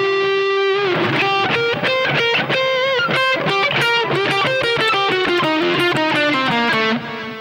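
Distorted electric guitar playing a solo with pre-bent notes that slide and release in pitch, a fast run of singing phrases, loud and up front before fading at the end.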